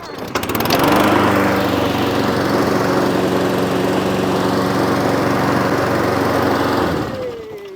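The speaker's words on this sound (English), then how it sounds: "you have a working lawnmower" A repaired lawn mower's small petrol engine runs steadily at a loud, buzzing drone for about six seconds, then begins to wind down at the end.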